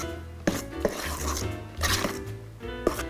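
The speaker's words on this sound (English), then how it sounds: "I'm going to put in half a teaspoon of that and just stir that through" Peppermint extract being stirred into cake mixture in a bowl, with a few sharp clinks of the utensil against the bowl between stretches of scraping and mixing, alone and close up.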